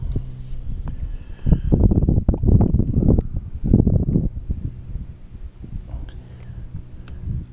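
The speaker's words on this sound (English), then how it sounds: "We are getting a little bit of wind right now." Gusty outdoor wind buffeting the microphone on a fishing outing, loud broadband rumble swelling through the middle and easing off toward the end, with no talk.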